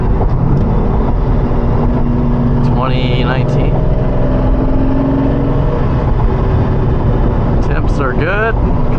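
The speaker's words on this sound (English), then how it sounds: "It's got the full LOC straight pipe exhaust." A Lamborghini Diablo fitted with a LOC straight-pipe exhaust drones loudly from the cabin, its engine note climbing in short revs while someone talks over it.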